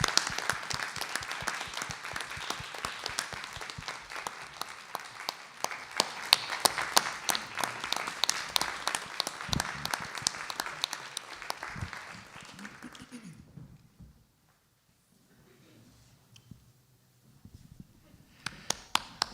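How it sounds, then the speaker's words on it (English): Attendees at a school district board meeting clap in a warm round of applause that carries for about twelve seconds before fading into quiet room noise, with a few scattered claps returning at the end. "Let's give Nick another round of applause."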